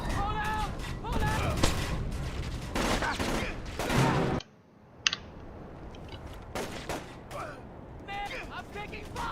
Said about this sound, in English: I'm taking fire! Incoming fire!